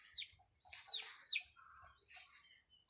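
Small birds chirp and tweet outdoors in a rural home garden, with several short, bright calls clustered early and a few fainter ones later, fairly distant and without talk.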